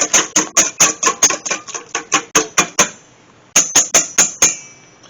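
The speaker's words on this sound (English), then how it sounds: "I got an egg here, one large egg, and let's beat that up." One large egg is beaten with a whisk in a bowl: rapid, evenly spaced sharp clinks against the bowl in bursts, a short pause, then another quick run of strokes, close and crisp.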